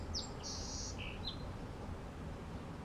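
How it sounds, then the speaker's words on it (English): Small birds give a few quick, high chirps and a short tweet, faint and somewhat distant, over a quiet outdoor background hiss with no talking. "Be distracted by birds."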